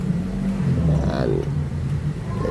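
A Toyota Raize 2024 1.2-litre engine idles with a steady low hum up close, a voice talking faintly over it.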